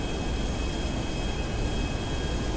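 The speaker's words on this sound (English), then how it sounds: "The plane's huge." A large airplane flies in the GTA V video game, giving a steady, loud broadband engine roar with a faint high whine that holds constant and alone throughout.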